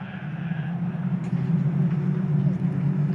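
Caterham Seven 270R race cars running side by side down the main straight at Snetterton, a steady loud low engine drone holding for the whole stretch with little change.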